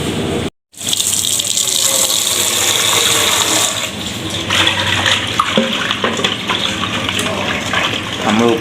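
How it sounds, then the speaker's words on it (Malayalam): Sardines are rinsed in salted water under a gushing stream, a loud, continuous close-up splash that cuts out for a moment near the start, then resumes with light sloshing. "ഉപ്പിട്ട് വെള്ളം നല്ലോണം ഇട്ട് കഴുകുകയാണ്"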